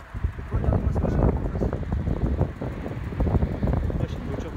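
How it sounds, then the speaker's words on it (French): Gusty wind roars and buffets the microphone in a low, steady rumble, swelling and easing in waves without letting up, as a storm with hail builds in Isère, France. "Le vent il est en train de monter un peu."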